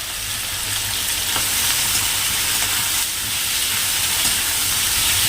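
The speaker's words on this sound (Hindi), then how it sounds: "इनको भी साथ में थोड़ा सा शैलो फ्राई करेंगे भून करके।" Chopped carrots and capsicum shallow fry in a pan with a loud, dense, continuous sizzle and hiss, stirred occasionally, close up and without talk.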